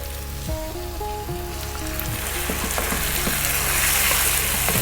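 Tomatoes go into a hot frying pan for a tariwala lamb curry and sizzle steadily up close. Soft stirring scrapes sit over a low background hum as the frying grows gradually louder.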